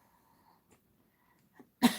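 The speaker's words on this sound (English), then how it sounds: "I am still coughing" A single sharp cough after near silence, close and abrupt, from someone with a lingering cough during a live tripod mount unboxing.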